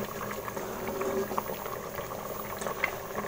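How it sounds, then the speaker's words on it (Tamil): Tamil egg curry (muttai kulambu) with cracked-in eggs bubbles in a pot, a soft, continuous simmer with scattered small pops and gurgles, quiet and close, with no talking. "இப்போ பாருங்கள், ஒரு 2 நிமிஷம் கொதிச்சிருச்சு"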